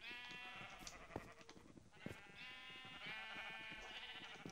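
Sheep in a video game bleating repeatedly, several drawn-out wavering calls in a row, clear and close with no talking.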